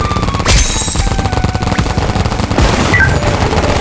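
Rapid continuous popping of paintball guns firing at an outdoor paintball game, loud and close, with dense overlapping shots and a few sharper cracks throughout.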